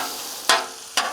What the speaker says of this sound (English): Mix it in.